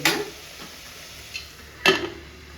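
Spice mix being stirred and fried in a pan for radish sambar: a few distinct scraping and clinking strokes of a spoon against the pan, spaced apart, close by, over a faint steady background hiss.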